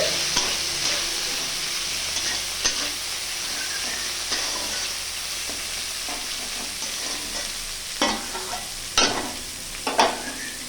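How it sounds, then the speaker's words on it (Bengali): Chopped onion and tomato fry in a pan with bay leaf and cardamom, a steady bright sizzle running throughout, broken by several sharp scraping stirs near the end, with no voices. "এরপর দিলাম পেঁয়াজ কুচি, টমেটো কুচি দিয়ে আমি ভালো করে ভেজে নিচ্ছি।"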